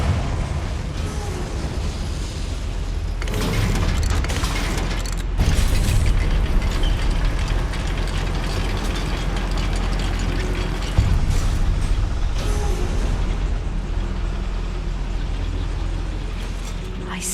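The Confringo fire spell is cast in Hogwarts Legacy inside a goblin mine, setting off loud, broad blasts over a rumbling mechanical background. Several heavy bursts hit a few seconds apart amid continuous clanking machinery.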